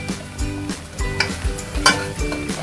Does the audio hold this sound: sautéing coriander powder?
yes